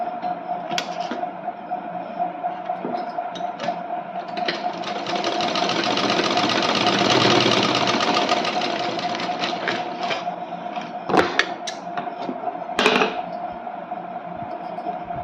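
An electric sewing machine stitching blouse fabric strips diagonally, a steady close motor whir that swells in the middle, with a few sharp clicks and knocks near the end.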